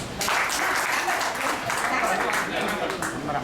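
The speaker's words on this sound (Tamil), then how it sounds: "உங்களுக்கு ஒரு கைத்தட்டு" A burst of applause from a group, brisk clapping rising quickly and continuing steadily, with voices murmuring underneath.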